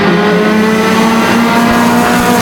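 Pure stock race cars roar off together at the green flag start at Flamboro Speedway, engines loud and close with rising revs and a steady, dense wall of motor noise.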